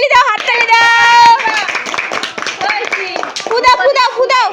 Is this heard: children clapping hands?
yes